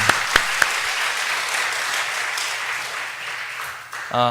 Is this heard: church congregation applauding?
yes